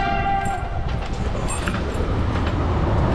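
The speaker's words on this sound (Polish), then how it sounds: "Pociągów tutaj co nie miara." A train rolls past beside an outdoor flea market in Wrocław, a steady loud rumble with rattling wagons filling the whole stretch without pause.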